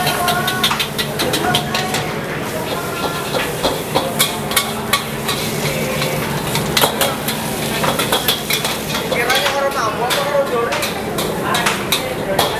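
Fried rice and fried noodles being stir-fried in a busy kitchen: continuous sizzling with rapid metallic clanks and scrapes of a spatula on the wok, steady and close, with voices talking over it.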